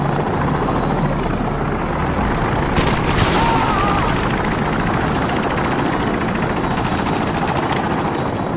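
In the video game Modern Warfare 2, an approaching helicopter produces a loud, continuous rotor roar with dense thumping, sustained throughout, with a brief burst of gunfire partway through.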